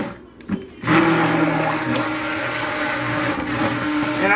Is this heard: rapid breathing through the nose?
no